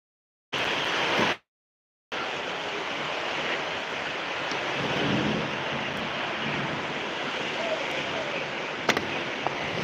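Steady heavy rain pours down as a dense, continuous hiss, briefly cutting out near the start before resuming at an even level. No thunder stands out.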